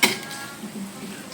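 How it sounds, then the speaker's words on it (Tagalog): Adobong sitaw, string beans in a boiling sauce, gets stirred in a cooking pot, with a short scraping clank at the start and soft rattling and bubbling texture afterward. "haluin lang natin."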